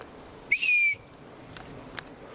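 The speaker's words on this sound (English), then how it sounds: "another whistle." A single clear whistle rises briefly and then holds steady for about half a second. A couple of faint clicks follow against a quiet background during a ghost-hunting session.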